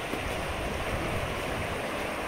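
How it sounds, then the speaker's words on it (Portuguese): Water overflowing the spillway of a reservoir dam (açude) after rain makes a steady, dense broadband rush with no breaks and no voices. "Essa é a maior quantidade de água que esse açude já transbordou esse ano."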